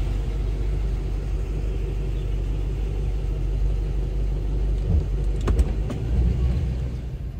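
A 1992 C4 Corvette engine idles with a steady low rumble throughout, close and even, with a few faint knocks midway.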